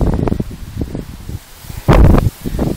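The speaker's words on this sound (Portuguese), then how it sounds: "O vento aqui está meio sinistro aqui." Strong gusts of wind buffet the microphone near the summit tower of Torre de Bom Sucesso in Teresópolis at about 1,500 metres, in loud uneven rushes with one heavy blast.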